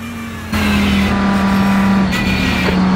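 An Audi race car engine at Sebring in iRacing cuts in loudly after a brief moment and holds a steady, buzzing high-rev drone, close and alone without talk.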